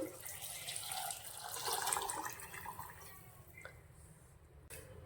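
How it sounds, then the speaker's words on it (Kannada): Water is poured onto proso millet and toor dal in a pressure cooker pot. A close, steady splashing pour builds and then tapers off into a few faint drips. "ಒಂದು ಬಟ್ಲು ತೊಗರಿಬೇಳೆಗೆ ಮೂರು ಭಾಗ ನೀರು ಹಾಕ್ತಿದ್ದೀನಿ"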